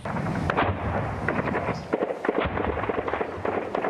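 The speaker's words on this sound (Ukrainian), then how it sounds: "Ми нарахували понад десяток прильотів мін 82-го калібру, а також мін 120-го калібру." 82 mm and 120 mm mortar rounds strike in rapid succession, a dense series of sharp blasts and rumbling thuds, loud and overlapping without pause.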